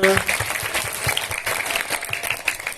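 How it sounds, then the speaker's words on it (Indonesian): Children applaud at a school storytelling session at an elementary school, a short burst of group clapping with a few voices mixed in, fairly close and steady throughout. "Tepuk tangan dong buat kita semua."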